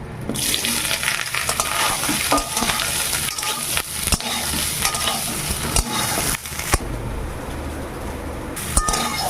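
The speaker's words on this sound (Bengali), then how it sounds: "আমি এই তেলে সোয়াবিনগুলো দিয়ে ভেজে নেব একটু" Soybean chunks frying in hot oil, a loud continuous sizzle with occasional stirring scrapes and clatter, close and alone.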